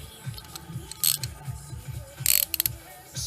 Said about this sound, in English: slacken them off with the ratchet, and that'll free it